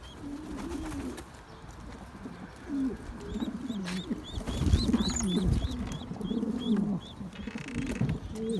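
Pigeons coo in low, repeated throaty calls close by, with small chirps higher up and some rustling around them.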